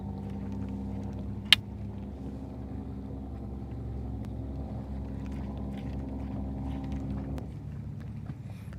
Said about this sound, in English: Hey Rob, I think you probably were able to hear that truck going brrrr.